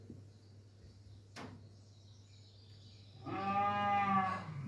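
A cow moos once, a loud harmonic bellow near the end after a brief knock, over a steady low background hum.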